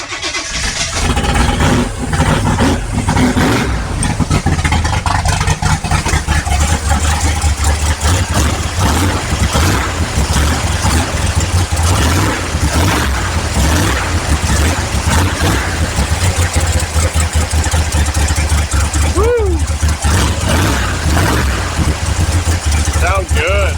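A 1955 Chevy fitted with a big block V8 runs continuously at a loud, fast idle just after its first start, a dense rumbling drone close by, with people talking over it.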